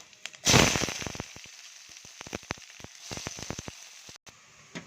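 Onion and green chili crackle loudly as they drop into hot oil, a burst of sizzling that settles into steady frying with scattered pops, close by and with no voices.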